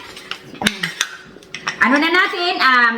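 Dishes and metal utensils being washed by hand: sharp clinks and clatters of cutlery against pots, then running water splashing steadily, close and fairly loud.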